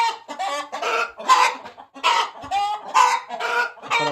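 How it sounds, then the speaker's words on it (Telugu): Aseel chickens on a farm at night, clucking and calling in a quick series of close, distinct bursts. "ఇంకా కూడా కోళ్ళు బేరుగానే ఉన్నాయి నైట్లో"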